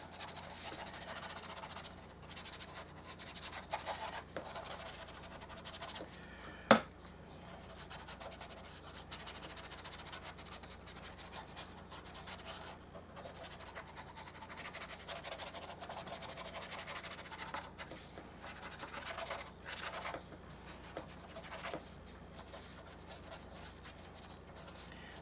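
Quiet, continuous scratchy rubbing of a water-soluble pencil scrubbing back and forth on paper in an art journal, close up, with one brief sharp tap partway through.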